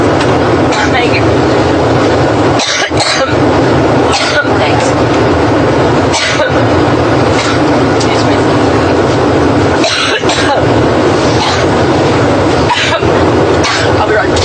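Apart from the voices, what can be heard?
coughing fit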